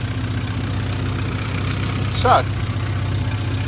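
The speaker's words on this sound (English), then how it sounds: "Got a nice 1275 GT engine." A 1275 GT engine idles in a car with a steady low rumble throughout, a voice cutting in briefly near the middle.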